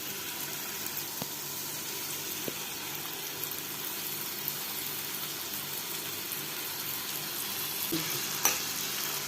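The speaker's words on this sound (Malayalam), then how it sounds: "എണ്ണ ചൂടായിട്ടുണ്ട് അതിൽ ഇതിപ്പോൾ രണ്ട് മൂന്നെണ്ണം ഇങ്ങനെ ഇട്ട് പൊരിച്ച്" Sweet diamond cuts frying in hot oil, a steady dense sizzle running throughout with a couple of faint taps and a small clink near the end.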